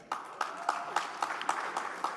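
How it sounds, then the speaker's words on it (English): Scattered audience clapping at a conference, a thin, uneven patter of a handful of hands with distinct individual claps roughly every quarter second, fairly quiet and without speech. "A round of applause for Sandra as well."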